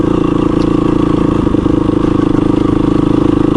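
A dual sport motorcycle engine drones steadily while riding in the morning, a continuous loud, even hum with a faint clattery texture throughout and no talk.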